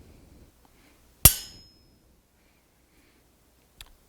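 A single sharp tap on a chisel rings out against wood, close and clear with a short ringing decay, followed after a pause by a much fainter second tick, otherwise silence.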